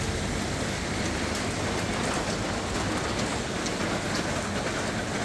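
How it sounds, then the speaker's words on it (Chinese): Steady rain falling on a street in Taipei, a dense, even hiss of drops on pavement with no break, close and fairly loud. "现在台北市下着雨了"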